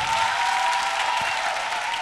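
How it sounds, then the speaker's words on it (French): Audience at a live televised singing competition applauding, a dense, steady wash of clapping hands lasting the whole moment. "Est-ce que vous pouvez les applaudir, s'il vous plaît?"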